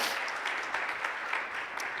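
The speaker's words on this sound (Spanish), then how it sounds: "dale un fuerte aplauso a Dios" Steady applause from a church congregation, continuous clapping at a moderate level with no voices.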